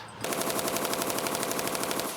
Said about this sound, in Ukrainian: М240 кулемет